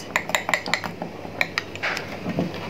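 A utensil stirs a seasoned egg mixture in a bowl, producing a quick series of bright metallic clinks and scrapes, close and fairly loud, with no talking.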